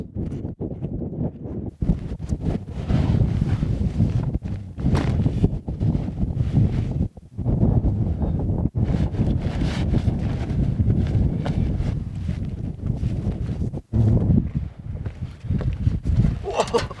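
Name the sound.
strong wind on a mountain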